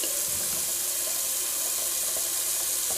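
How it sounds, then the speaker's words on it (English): Steady broadband rush of cold water running from a bathroom sink tap during a wet shave cleanup, continuous and fairly loud with no talking. "I'm just going to do a cold water rinse"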